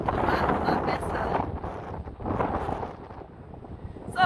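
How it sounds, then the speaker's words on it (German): Strong wind buffets the microphone outdoors on a hilltop near Camps Bay, Cape Town, at sunset, loud irregular rumbling gusts that rise and fall, with a brief lull before surging again. "Es ist richtig windig."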